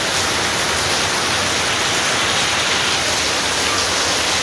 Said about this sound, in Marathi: पाऊस पडायला सुरुवात झालेली आहे